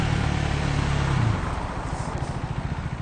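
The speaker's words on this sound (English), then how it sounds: "It's got an Acropovic exhaust on it" Husqvarna Vitpilen 401 motorcycle fitted with an Akrapovic exhaust, a close, loud engine note that drones steadily, then drops to a pulsing, throbbing idle.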